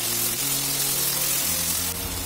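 Ginger and garlic paste sizzles with fried onions in a pan for a Bengali potato dum, a steady continuous frying hiss close up, with no voices.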